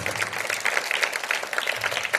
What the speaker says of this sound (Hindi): एक बार जोरदार तालियों से इन बच्चों का मनोबल बढ़ाएं।